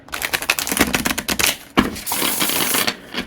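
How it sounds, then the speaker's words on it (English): Close, loud riffle shuffle of a Majestic Earth tarot deck: rapid rattling card flutter, then a sharp snap as the halves bridge and settle back together. "Are all of you screaming because I'm riffling Majestic Earth?"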